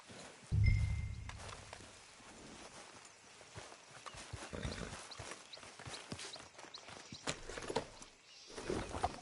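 Horses in Red Dead Redemption 2 clip-clop at a walk, with irregular hoof thuds that come and go at moderate volume over a low rumble, and a loud thump near the start.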